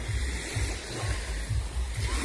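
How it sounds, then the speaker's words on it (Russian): Sea waves wash near a boat at sunset in a rhythmic series of low surges, roughly every half second, under a steady airy wash of water and light wind. "Смотри, какая волна."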